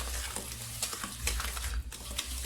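Oil being mixed into red velvet cake batter by hand, with a continuous wet churning and slapping from the spoon in the bowl and a low hum beneath, no speech.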